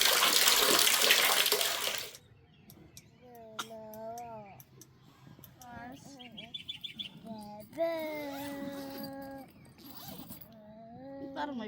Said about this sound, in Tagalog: Malakas ang tubig, oh.